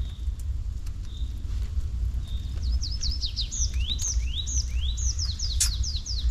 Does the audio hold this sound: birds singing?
yes